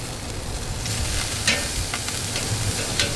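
Prime ribeye steaks sizzle steadily on a grill grate over direct heat, a dense continuous frying hiss with a few brief scrapes and clicks as the meat is flipped, with no one talking.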